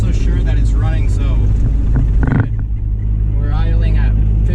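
A 1978 Triumph Spitfire's engine idles at around 1500 rpm, a steady close rumble running throughout while someone talks over it.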